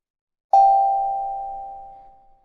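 A single struck note from a range drum, a steel tongue drum, rings out clear and close, then sustains with a slow, smooth decay over about two seconds with no other sounds.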